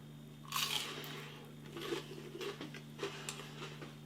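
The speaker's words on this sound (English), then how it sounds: "The batter is crispy and crunchy." Crisp crunching bites into battered fish, a few close, brittle crackles followed by softer chewing over a low steady hum.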